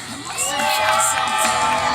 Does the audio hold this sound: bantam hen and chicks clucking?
no